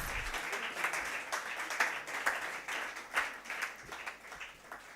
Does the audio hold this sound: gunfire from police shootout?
no